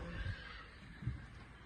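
A foal whinnies in two short, faint bursts in Aksy, Kyrgyzstan, heard from a distance with a quiet outdoor background and no talking.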